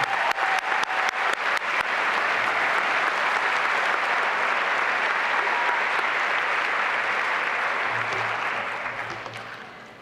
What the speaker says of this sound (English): Please give a final round of applause to all of our amazing students and award winners.